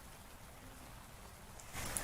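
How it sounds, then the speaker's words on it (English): Rain falls during a storm in Fells Point, a faint, steady hiss that swells louder in the final moments, with no speech. "Just in the past 5 minutes, the rain picked back up here in Fells Point"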